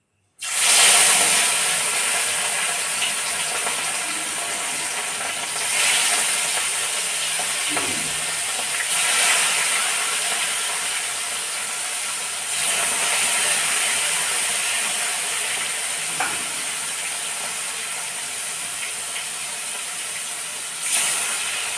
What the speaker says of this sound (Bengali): এবার মাছগুলো ভেজে নিই